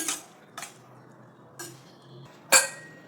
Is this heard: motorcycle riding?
no